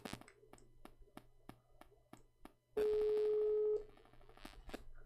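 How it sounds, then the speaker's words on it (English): A phone call is dialed: a run of short, evenly spaced keypad beeps, then a loud steady tone lasting about a second, followed by more faint beeps. "Let me call Amir. Maybe he's asleep"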